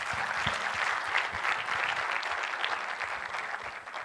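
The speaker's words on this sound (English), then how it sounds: "Let us give all of them a huge round of applause" A huge round of applause from the audience at a university panel session in Pune, steady dense clapping filling the room without a break, no voices over it.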